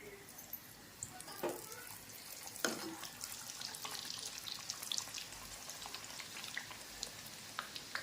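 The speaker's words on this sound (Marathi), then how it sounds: "कढईमध्ये तेल गरम करून घेतलेलं आहे, त्याच्यामध्ये हे भटुरे तळायसाठी सोडून द्यायचे." Bhature deep-frying in hot oil in a kadhai, a continuous bubbling sizzle with a few sharper splashes and clatters over the steady hiss, nearby and moderately loud, with no talking.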